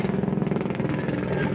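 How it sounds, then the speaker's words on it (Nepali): A helicopter passes close overhead, its rotor throbbing in a fast steady pulse over a dense engine roar that fills the whole moment, loud and near, with a voice faintly mixed in. "कस्तो हेलिकप्टर आयो यार"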